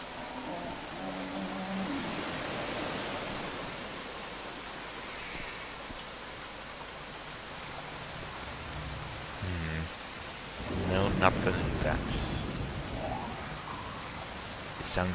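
Steady rain with rumbling thunder in the video game Neverwinter Nights, a soft continuous patter throughout under quiet game effects, with a brief louder swell near the end.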